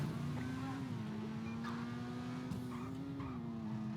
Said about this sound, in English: I can hear the engine not doing so hot in this car. You can hear that, like, engine ticking and making some really strange noises here.